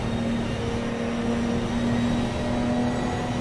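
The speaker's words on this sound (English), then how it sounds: "This car sounds like a vacuum cleaner when you're idling." A Ginetta SR604 race car idles steadily at Brands Hatch in a racing video game, giving a constant, even engine hum with a hollow, whirring tone, heard alone without talk.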